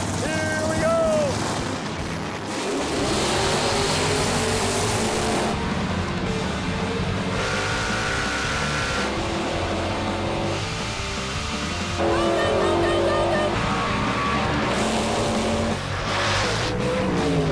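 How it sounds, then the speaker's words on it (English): Drag race cars roar loudly and continuously as they launch and run down the track, engine revs shifting through the pass, with an announcer talking over the noise. "fire those cars up"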